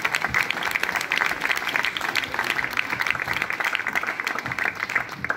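An outdoor crowd claps at a town square inauguration in Bacchereto, Italy, with a steady wash of moderate applause from many hands across the whole stretch, without voices on top.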